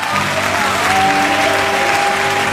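A church congregation breaks into loud, dense applause during a sermon, a continuous wash of many hands clapping at once that stays steady for a couple of seconds.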